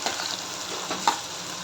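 Onion and ginger-garlic paste fry in oil in a pan with a steady, even sizzle, close and moderately loud, and a brief stir or scrape near the middle.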